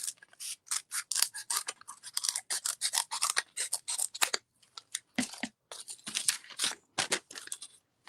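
Scissors snipping through paper to cut out a hand-printed seed packet, a rapid close series of crisp crunching cuts with short pauses between runs of strokes.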